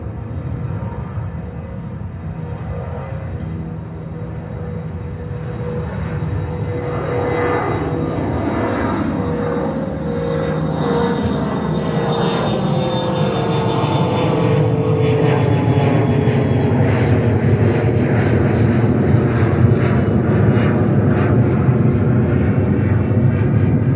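An Iberia airliner takes off from runway 13 right at JFK Airport in New York, its engines producing a steady, loud roar that gradually builds and shifts in pitch over about twenty seconds, with no voices.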